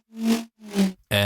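A synth bass preset answers in a call-and-response pattern: two swelling, rounded notes, then a brighter, buzzier sustained tone cutting in abruptly at the end.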